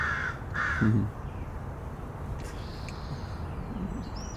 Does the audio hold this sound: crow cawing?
yes